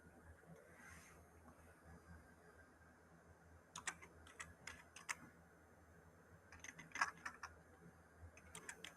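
Keys on a computer keyboard clatter in faint, quick bursts of clicks, quiet and close, with pauses between runs of typing.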